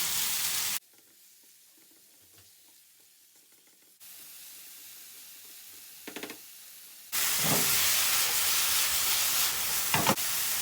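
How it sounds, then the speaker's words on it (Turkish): Diced chicken pieces sautéing in a pan, a steady close sizzle that drops out and returns in separate stretches, louder and brighter near the end, with a few stirring scrapes and no talking. "Çevire çevire kavuracağız."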